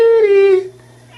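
A single drawn-out cat meow, loud and close, sliding gently downward in pitch before trailing off into quiet room tone, one of four cats answering a call.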